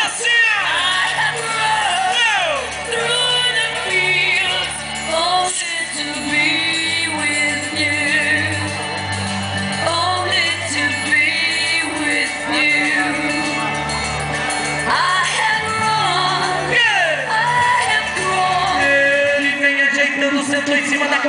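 A rodeo crowd in Santa Helena de Goiás shouts and cheers continuously, a dense roar of many voices with scattered yells rising and falling throughout, mixed with an announcer's voice.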